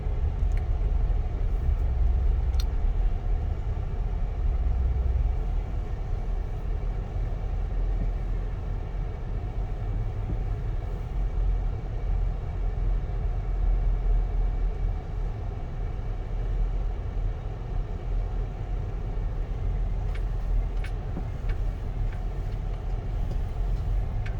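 Car driving on a pothole-filled country road, a steady loud rumble of tires and engine throughout with a few faint knocks, heard from inside with no talking.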